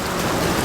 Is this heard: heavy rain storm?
yes